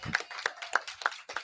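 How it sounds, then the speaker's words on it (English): Scattered hand claps from a live audience at a Miami podcast taping, about five separate sharp claps spaced evenly, fairly faint and sparse rather than a full ovation. "Clap it up, y'all. Clap it up"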